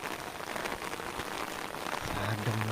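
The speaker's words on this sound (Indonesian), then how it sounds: "Hujan ternyata." Rain patters steadily on surfaces in a cool countryside village, a dense, even wash of drops heard fairly close and alone, growing slightly fuller toward the end.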